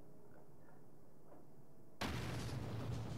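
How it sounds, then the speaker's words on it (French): A big explosion in the video game Ninjala bursts in suddenly after two seconds of quiet ambience, a loud, dense, sustained blast that fills the rest of the clip. "grosse explosion à la Broly dans DBZ"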